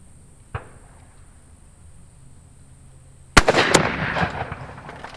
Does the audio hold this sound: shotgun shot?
yes